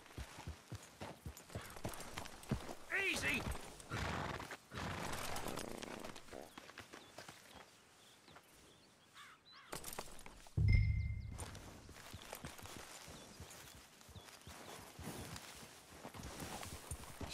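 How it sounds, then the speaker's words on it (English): A horse in the video game Red Dead Redemption 2 walks with soft, irregular clip-clop hoofbeats, quiet and close, with a sharp thump partway through, while a voice briefly speaks over it. "Come on, get on the horse."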